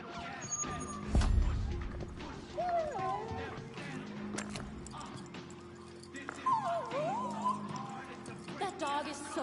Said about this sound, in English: That dog is so cute.